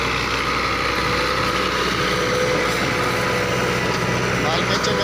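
A 2015 Fiat 640 tractor engine running steadily, a loud continuous diesel drone and rattle close by throughout, with someone talking over it.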